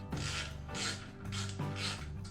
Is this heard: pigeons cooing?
no